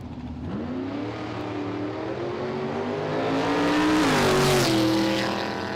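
Drag racing cars, including a Mustang, launch down a dragway strip, engines roaring loud and rising in pitch as they accelerate, with a second surge of revving and a brief tire squeal toward the end.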